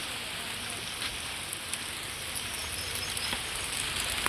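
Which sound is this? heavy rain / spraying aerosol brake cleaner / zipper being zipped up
heavy rain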